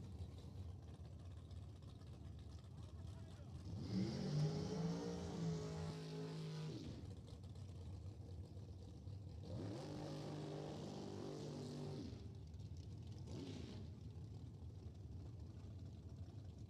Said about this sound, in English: Super Comp rolling in. The 890 cars.